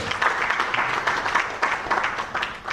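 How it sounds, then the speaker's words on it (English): A crowd claps steadily for a few seconds, dense applause with slight swells in loudness and no pause. "clap for them, clap for them"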